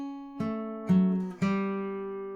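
Guitar notes: three plucked notes about half a second apart, each ringing and fading, the last on the open third string, played alone and clearly with no voices.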